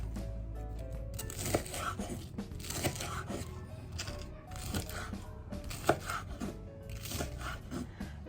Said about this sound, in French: Et on les coupe en lamelles, pas trop grandes